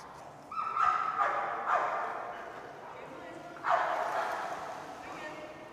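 Dog barks and yips at a dock diving distance jump event, several sharp barks spaced over a few seconds at moderate distance against outdoor background noise.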